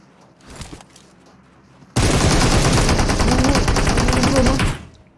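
Sustained automatic gunfire from the mobile game PUBG Mobile, a loud, dense rapid-fire stream lasting about three seconds after a faint earlier shot, then cutting off abruptly.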